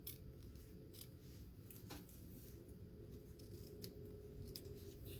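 Scissors trimming ribbon on a festive pocket-tag gift card holder, faint close snips and soft rustling of paper and ribbon, quiet and steady with a few sharper clicks.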